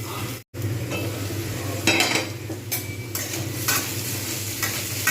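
Potatoes and onions, with green papaya, sizzle steadily in a pan while a utensil stirs and scrapes against the metal, with occasional clinks.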